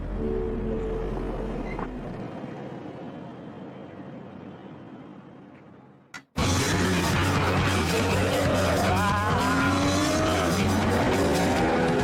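Cars drag racing on a track with the Las Vegas Police Department: a quiet stretch, a sudden dropout, then a loud burst of roaring engines and rising whine that stays intense to the end.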